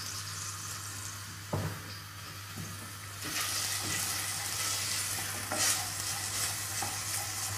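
Onion and garlic frying in mild olive oil for dal, a soft steady sizzle with stirring rustles and occasional utensil knocks, close by under a low background hum.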